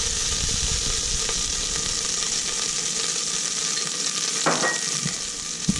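Garlic and ginger sizzle steadily in hot olive oil with a constant bright frying hiss, joined by a few soft stirring scrapes and a short clatter near the end.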